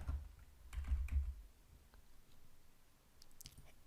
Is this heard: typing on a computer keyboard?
yes